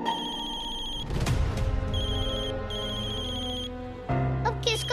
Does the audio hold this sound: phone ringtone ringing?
yes